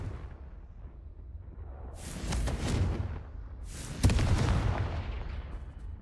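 Two Confringo blasting-spell explosions in Hogwarts Legacy, each a sudden rumbling burst that rolls and fades over about two seconds, the second sharper and louder, against a quiet low ambience.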